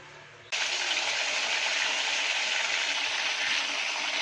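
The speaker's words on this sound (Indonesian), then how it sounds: "Yang terakhir kita goreng ayam ya." Loud, steady sizzling of chicken frying in hot oil, starting abruptly and continuing without a break.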